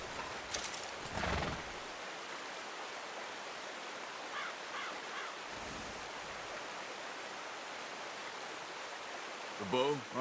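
A horse in Red Dead Redemption 2 gives a short whinny amid hoof clops and flowing water in an outdoor scene, with a quiet voice near the end.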